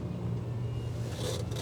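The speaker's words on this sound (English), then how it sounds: "I don't know if this truck is trying to come in here or what he's trying to do." A truck on a road in the Philippines, heard from a nearby vehicle as a steady low rumble and engine drone that holds for the whole moment, with brief hiss near the end.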